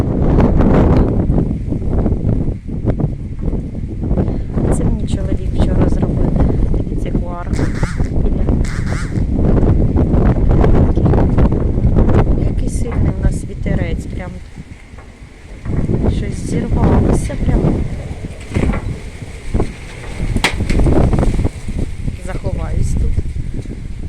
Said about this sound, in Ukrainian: Ой, який у нас вітер піднявся.